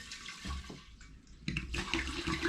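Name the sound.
pouring spirit back into an air still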